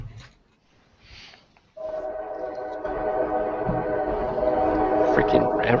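A passing train sounds its horn, a loud sustained blast that begins abruptly and keeps building, with rumbling railroad noise beneath it.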